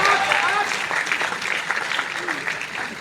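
An audience applauding at a Hindi poetry recital at a national poets' gathering in a Delhi college hall, a dense, continuous clapping that stays fairly loud and fades slightly toward the end, with a voice audible over it.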